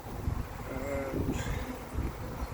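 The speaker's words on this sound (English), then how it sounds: "Pop the brood frame out here, and we can see we're full of bees." Honeybees drone in a steady close buzz from an opened hive as a brood frame is lifted out, the hum rising and falling slightly with no talk.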